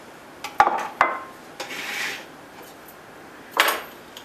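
Fresh strawberries dropped into a kitchen blender jar, making a few soft thuds and light clatters spaced over a few seconds, close by and otherwise quiet.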